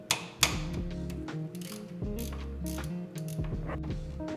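A ratchet clicks steadily as it undoes a 13mm ground wire bolt on a BMW E36 M5X engine, giving close, rapid pawl ticks with brief pauses and a sharp knock near the start.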